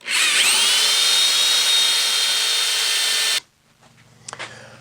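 Oak blank spinning on a wood lathe while a tool cuts it, giving a loud, steady whirring, scraping roar for over three seconds. The noise then cuts off abruptly, leaving near silence with a few faint taps.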